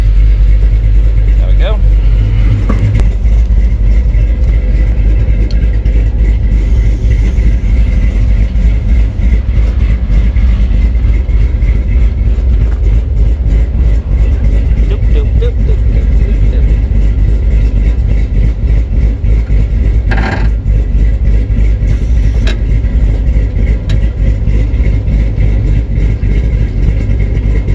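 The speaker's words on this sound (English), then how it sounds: "Let's activate the PTO." A truck engine idles steadily with its PTO engaged, a loud low rumble running throughout with brief clanks, while someone talks over it.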